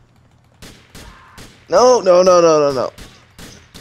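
Gunfire in the video game GTA IV during a multiplayer match comes as a few sharp shots, then a loud, rapid burst, with a player speaking briefly at the end.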